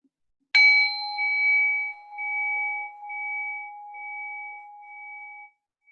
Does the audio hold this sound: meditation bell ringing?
yes